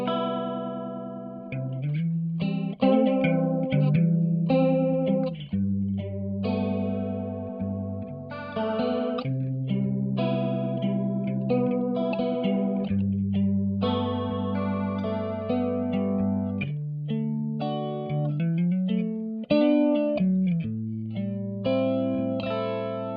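A sustained synth or instrument tone is processed through a modulation effect that alternates between slow and fast rates, playing alone with a chorus-like, slightly distorted wobble across a continuous melodic line.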